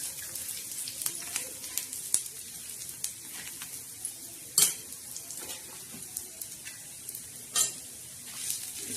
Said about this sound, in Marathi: आता हा असा भाजायचा, खरपूस आणि खमंग असा मस्त भाजायचा.